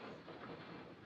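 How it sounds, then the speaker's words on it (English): A train pulling out of a station, heard as a steady rolling rumble of wheels and carriages with faint clatter throughout, fairly quiet and without any voices. "The train is leaving."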